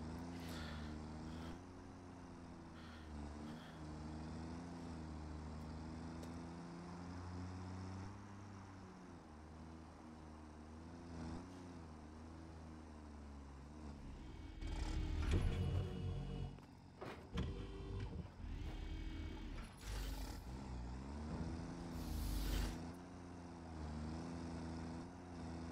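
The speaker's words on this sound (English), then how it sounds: "we're actually gonna start taking the truck around" A truck driving in the Satisfactory video game, a steady low engine drone with shifting pitch, grows louder with rougher bursts midway, then settles back into its even hum, no voices.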